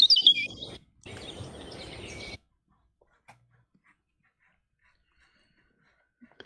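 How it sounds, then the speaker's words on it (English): Small birds chirp and tweet in a quick burst over the first two seconds, fairly close and clear, then the scene falls almost silent apart from a few faint ticks. "Oh, Craig's got some nice birds today"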